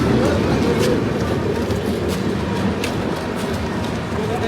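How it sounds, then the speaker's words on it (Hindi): Vikramshila Express, running from Bhagalpur to Delhi Anand Vihar, pulls into a crowded Indian railway platform, its steady low rumble of rolling rail wagons carrying on throughout amid a noisy station crowd. "भैया आ चुकी है विक्रमशिला एक्सप्रेस, जो कि भागलपुर से दिल्ली आनंद विहार तक जाती है।"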